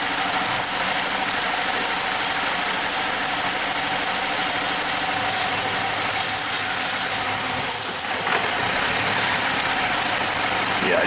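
A Saturn Ion 2.4-litre engine idles with a vacuum leak after its intake has been sprayed, running as a steady close mechanical drone with an uneven, skipping roughness through the middle.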